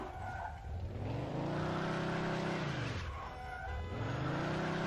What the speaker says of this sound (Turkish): Jantları değiştirdik ama fena kayıyor araba.